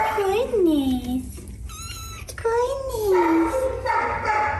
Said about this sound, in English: The baby kitties!